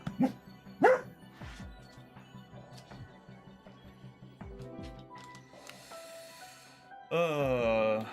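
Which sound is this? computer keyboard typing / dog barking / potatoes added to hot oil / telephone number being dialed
dog barking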